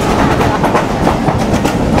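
The Rocket Mail train from Khulna rolls steadily along the rails, a loud continuous rumble with rhythmic clatter from the wheels throughout.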